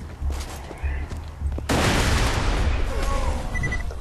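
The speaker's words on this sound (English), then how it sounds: "Grenade in!" Bursts of gunfire rattle in short volleys before a grenade blast erupts into a sustained roar in a Borderlands 2 co-op firefight, loud and close, with faint high game tones near the end.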